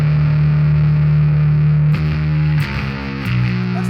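Thick, saturated electric guitar tone through a KHDK Unicorn Blood II fuzz pedal with the fuzz knob maxed: a sustained chord rings out, then a few more chords are struck and left to decay.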